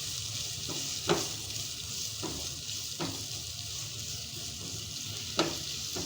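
Sliced onions sizzle and fry steadily in a pan, turning soft and light pink, with a continuous close hiss and a few brief stirring knocks and scrapes; no talking.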